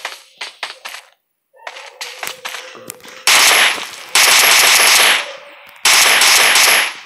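Gunfire from the PUBG Mobile video game: scattered single shots that build into long, loud bursts of rapid automatic fire with brief pauses between volleys, with no speech.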